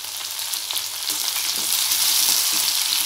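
Shallots for a spicy chutney fry hard in hot oil in a pan, a loud, continuous sizzle with faint stirring scrapes and no voices.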